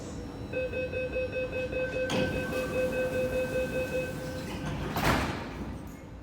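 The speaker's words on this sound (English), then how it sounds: "Please stand back from the platform doors." Metro platform screen doors at South Horizons station, with a steady underground rumble, a sustained electronic chime, and two brief sliding whooshes as the doors move, one of them louder near the end.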